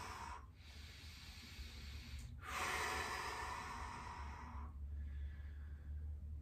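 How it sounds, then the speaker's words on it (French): Slow, deep breaths drawn in and let out during a lower-back stretch, close and soft, with long airy inhales and exhales separated by brief pauses. "je vais respirer profondément là"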